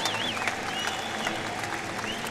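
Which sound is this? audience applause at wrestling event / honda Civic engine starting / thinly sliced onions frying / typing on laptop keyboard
audience applause at wrestling event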